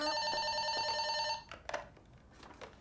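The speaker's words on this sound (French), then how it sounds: "Maman, téléphone!" A home telephone rings with a steady electronic tone for about a second and a half, then stops; scattered knocks and handling sounds follow in the room.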